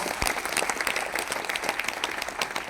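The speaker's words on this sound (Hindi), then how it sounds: "तो एक जोरदार तालियां मिस्टर गैरी के लिए, please give a big round of applause." Audience at a company business event applauding Mr Gary with dense, steady clapping that continues throughout at moderate loudness.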